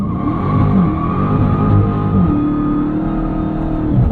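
A 2023 Dodge Charger SRT Hellcat with a 717 hp supercharged engine roars loud and close in a steady sustained rev, with a constant droning whine throughout, suggesting a tire burnout on pavement.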